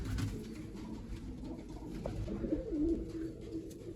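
Pigeons coo softly at close range while a keeper sorts flying pigeons from large ones. Low, steady murmuring runs throughout, with a clearer rolling coo near the end and no talking.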